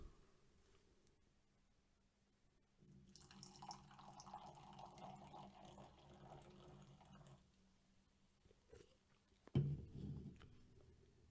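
G Fuel Knuckles Sour Power sour raspberry energy drink poured into a glass, a steady liquid stream lasting several seconds at moderate loudness, followed by a brief clink.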